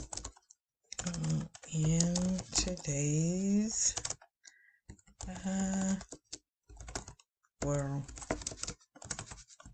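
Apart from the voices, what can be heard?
typing on a computer keyboard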